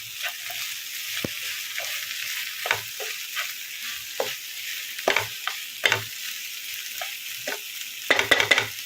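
Small onions frying in a pan are stirred, with a steady soft sizzle under repeated scraping and tapping of the spoon against the pan; the knocks come irregularly and grow busier near the end.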